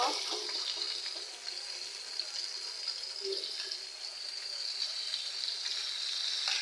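Fish frying in a pan produces a soft, even hiss, fairly quiet and steady, with a faint light clink partway through and no talk.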